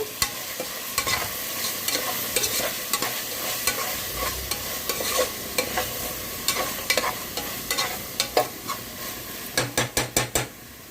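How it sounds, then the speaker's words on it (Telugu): Tomato pieces frying in a pan for tomato rice under a continuous sizzle, while a spoon stirs and scrapes with frequent clinks that end in a quick run of rapid taps against the pan, with nobody speaking. "వేగినాయి టమాటా ముక్కలు కూడా వేగిపోయినాయి కదండి"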